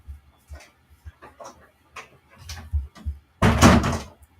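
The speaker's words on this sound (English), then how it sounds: "And closing door sounds in the meantime." A door closes indoors: a run of faint clicks and small knocks, then a loud, close thud with a brief rattle near the end.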